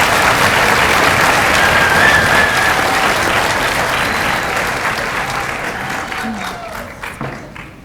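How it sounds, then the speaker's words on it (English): Audience applause fills the hall at an Ontario Veterinary College professional welcome ceremony, loud sustained clapping from a large crowd that slowly thins and fades toward the end. "I just want to congratulate you on keeping the energy up and the clapping throughout the whole class of 145."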